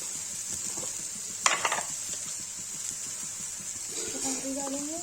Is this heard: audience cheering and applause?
no